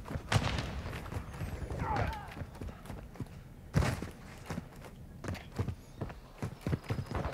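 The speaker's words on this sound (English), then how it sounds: "I just heard his footsteps." Footsteps in Call of Duty Modern Warfare 2, a run of quick, thudding steps with a clip-clop rhythm heard close up under the game's ambience, while a player talks over them.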